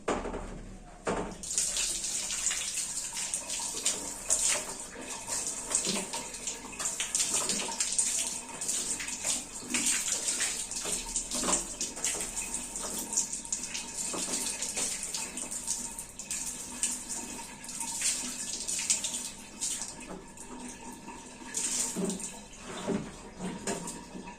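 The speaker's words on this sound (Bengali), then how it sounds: "আগে মুখ ধুয়ে নি পরে কথা বলি" Tap water runs steadily while someone washes their face at a sink, with a continuous close hiss of flowing water and splashing of hands and water throughout, and no talking.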